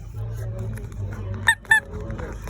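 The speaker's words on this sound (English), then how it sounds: "Oh my god, the rubber chickens." Two sharp, honking squeaks of a rubber chicken toy pop out in quick succession over low background murmur in a Spirit Halloween store.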